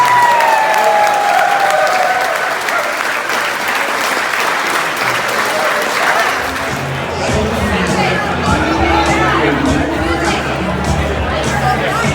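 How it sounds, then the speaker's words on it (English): Wedding guests clap in a loud, sustained round of applause that thins out midway into crowd chatter while music plays underneath. "How about giving them all a round of applause?"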